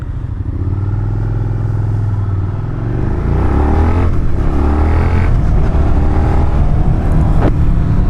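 Honda CB650R and Suzuki SV650 motorcycles pulling away, a loud close engine drone climbing steadily as they accelerate through the gears, with no talk over it.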